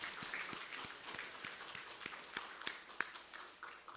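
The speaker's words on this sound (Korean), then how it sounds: "서로 한번 격려하면서 박수 한번 하겠습니다." A church congregation applauds together during a Sunday service, a moderately distant wash of many hands clapping steadily for a few seconds with individual claps popping out irregularly.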